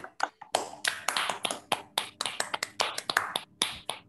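A few people clapping over phone connections at the end of an online physics lecture, sharp distinct claps in bursts, loud and close, no voices.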